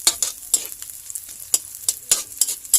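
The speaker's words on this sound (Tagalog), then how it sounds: "nagsaute tayo ng onions and garlic" Onions and garlic sautéing in a pan for ginisang ampalaya with ground pork, a soft sizzle under repeated sharp scrapes and clacks of a spatula stirring, close and clear with no talking.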